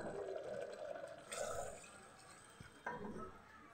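Water poured into roasted dal in a cooking pot, a soft continuous pouring and splashing that swells briefly partway through, with a small clink and a few faint drips near the end.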